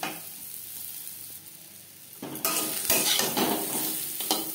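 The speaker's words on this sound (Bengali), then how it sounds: "আম আমি হালকা করে ভেজে নেব" Mango pieces fry lightly in a pan for a sour, spicy, sweet mango pickle. A soft, low hiss swells abruptly into a loud, bright sizzle partway through and stays strong with stirring scrapes.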